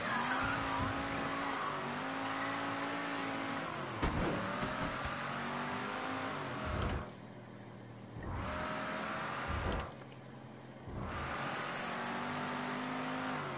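A car in the video game Mafia 3 drives hard with a droning, revving engine and long tire squeals and skids, loud and continuous, with the engine pitch rising and falling through several gear changes.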